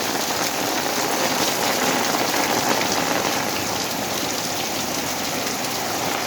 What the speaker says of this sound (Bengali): কী হারে বৃষ্টি হচ্ছে প্রচণ্ড লেভেলে বৃষ্টি